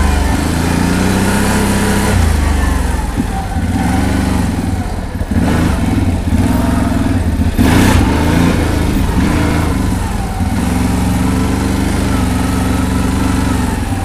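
A CFMOTO X8 H.O. EPS ATV engine drones loudly and close, its revs climbing and easing repeatedly as it accelerates, with a sustained low engine roar throughout.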